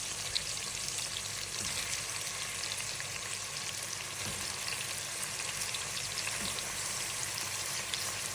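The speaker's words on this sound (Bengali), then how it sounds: "কড়াইতে তেলও দিয়ে দিয়েছি এখন পেঁয়াজটা দিয়ে দিব" Onion going into hot oil in a wok for a lamb chops curry, a steady, even sizzle and crackle throughout, fairly quiet and continuous with no voices.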